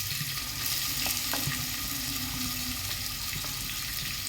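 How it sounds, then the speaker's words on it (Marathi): Onion sautéing with whole spices in a pressure cooker for mutton biryani, a steady close sizzle with occasional clinks and scrapes of stirring throughout. "कांदा परतून घेऊया"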